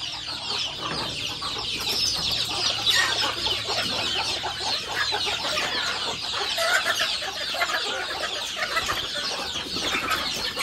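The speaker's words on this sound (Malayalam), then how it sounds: "ഇവിടെ നമ്മുടെ പുതിയൊരു കോഴി വിരിഞ്ഞിട്ടുണ്ട് കേട്ടോ." A hen and a newly hatched chick cluck and peep in a busy, continuous stream of close calls that holds steady throughout, with no voices heard.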